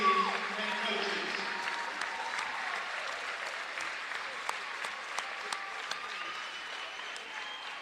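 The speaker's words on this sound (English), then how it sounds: "Please join me in a round of applause as we celebrate our Lady Pioneer All-Conference and All-American honorees and coaches." Audience applause at a college volleyball event honoring MNU Lady Pioneer All-Conference and All-American players and coaches: a steady wash of clapping that holds for about eight seconds, easing slightly toward the end.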